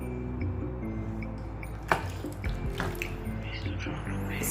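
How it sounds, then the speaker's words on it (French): Water pours and splashes into a pot of chicken and rice for choukouya, a close, continuous trickling and sloshing with a sharper splash partway through. "Je rajoute un peu d'eau."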